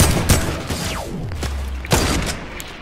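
Gunfire in a Fortnite match, a few sharp cracking shots with booming tails and a falling whine between them, loud and close, no speech.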